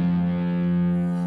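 Electric guitar run through a stereo effect in BIAS FX 2 amp-modeling software: one sustained, heavily processed chord with a steady drone and faint shimmering tail, alone.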